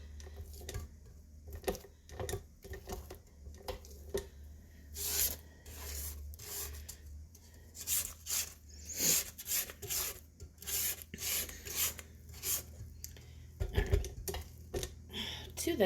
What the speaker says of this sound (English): we will scrape down the beater and the sides.